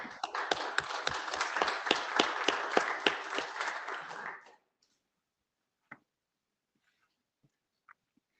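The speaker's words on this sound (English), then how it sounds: "Let's have a round of applause." Audience applause at an IETF privacy research group conference session: a room of people clapping briskly for about four and a half seconds, then cutting off into near silence with a few isolated faint knocks.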